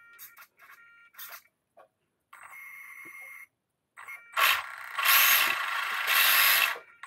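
A small Savox servo on a model helicopter whirs and grinds noisily in several short bursts, then longer harsh buzzing runs that grow louder toward the end, heard close up with no talking.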